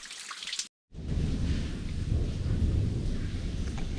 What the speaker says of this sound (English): I just caught the end of that thunder rumble.